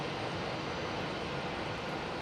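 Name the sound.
Airbus A320 jet aircraft at airport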